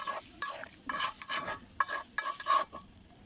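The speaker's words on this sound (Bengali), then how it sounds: "পানিটা দিয়ে দিলাম অল্প করে।" Duck meat frying in a pan with a little water just added, giving bursts of loud sizzling and scraping stirring strokes in an uneven rhythm, close up and with no talk.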